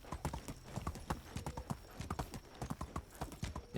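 A horse in the medieval life-sim game Medieval Dynasty trots along, its hooves beating out a quick, steady clip-clop that is close and distinct, with no voices over it.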